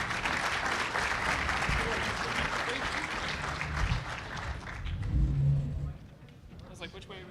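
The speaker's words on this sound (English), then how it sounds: "Let's have a round of applause for our panelists," An audience at a regional broadband summit claps for the panelists in a sustained, fairly loud round that swells slightly before fading out near the end, with voices starting up as it dies away.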